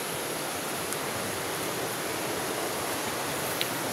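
Typhoon Wilma's wind and heavy rain roar as a steady, dense wash of noise with no letup, loud and close throughout, with only a couple of faint ticks breaking through the constant downpour.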